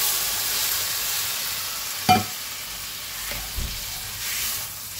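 Hot water goes into a pan of frying potato curry, which sizzles steadily. A sharp hiss-like burst comes partway through, followed by a couple of softer clatters against the pan, and nobody speaks.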